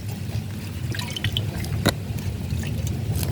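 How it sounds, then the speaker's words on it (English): Ash water pours into dry, dusty potting mix, a continuous close trickle with small drips and splashes and one brief louder splash partway through, no voices. "Let me put some ash water in this."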